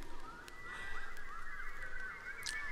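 A person imitates a bird's call with a series of wavering, honk-like cries, fairly loud and close, with no other voices.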